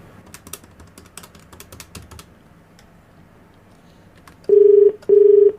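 Rapid keypresses tapping out a phone number, followed by two loud electronic ringback tones, close and clear with no voices.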